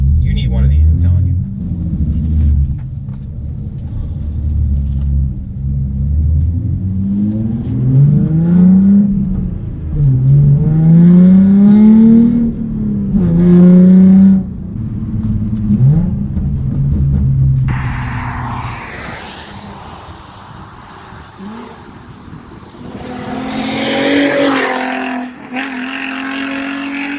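Modified Genesis Coupe 3.8 R Spec with a V6 engine, heard on a drive: a low engine rumble rising and falling through several revving pulls, then harsher broadband road and wind roar toward the end, with a person talking over parts of it.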